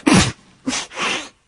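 A young woman who is feeling unwell sneezes twice, close and loud, a sharp burst followed by a second, longer sneeze a moment later, alone without other voices.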